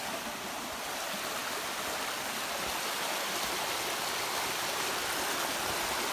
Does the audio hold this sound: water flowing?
yes